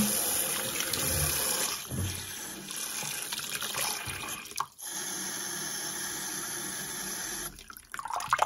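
Water runs steadily into a sink through a piece of cardboard used as a makeshift strainer, a continuous close splashing rush with a brief dip midway and no speech.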